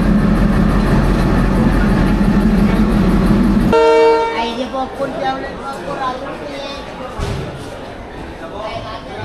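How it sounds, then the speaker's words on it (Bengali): A train sounds a sustained, tonal whistle at a rail crossing as the loud rumble of the passing Dolonchapa cuts off abruptly; the whistle rings out near and clear over fainter background noise. "হুইসেল দিয়ে দিল"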